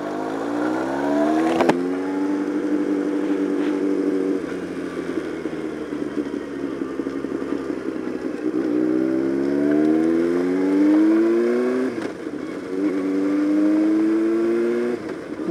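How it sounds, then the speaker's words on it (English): A car engine stuck in place revs repeatedly, its pitch climbing and falling in several sustained loud surges over a steady rumble, with no talking. "car was stuck or something"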